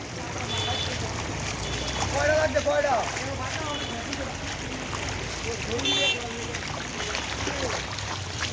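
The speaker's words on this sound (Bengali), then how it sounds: "অনেক অনেক স্রোত পানির।" Strong floodwater current flowing through a flooded area where houses are submerged, a steady broadband rush with wind buffeting the microphone, while people talk throughout the clip.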